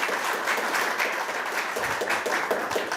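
Applause fills a hall at a National Assembly forum on technology developers as a lawmaker is welcomed to speak; steady, dense clapping from a seated crowd, close and continuous.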